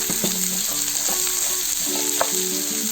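Green chillies and dry chillies frying in oil in a pan for rava upma, a steady close sizzle with light stirring scrapes throughout, no voices.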